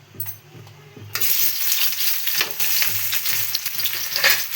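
Onions frying in a kadhai for Maggi, a few clinks at first, then a sudden loud sizzle as they hit hot oil, continuing steadily with light stirring scrapes.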